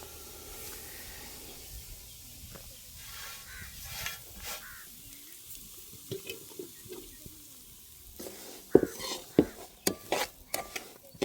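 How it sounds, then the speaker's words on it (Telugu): Bombay rava (semolina) is being stirred and roasted in a pan with a spoon, soft gritty scraping and faint sizzle, with sharper clinks and scrapes of utensil against the pan toward the end. "అదే పాత్రలో బొంబాయి రవ్వ కూడా వేసి దోరగా వేస్తాను."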